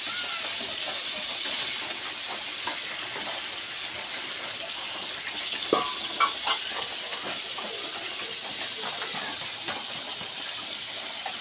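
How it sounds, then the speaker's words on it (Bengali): A pot of dal (lentils) boils on a stove, giving a steady hissing, steamy bubbling with faint sizzles, continuous and fairly close, with a few small clinks midway and no talk. "ডালটা সিদ্ধ করার জন্য চুলার উপর দিয়ে রাখিছি"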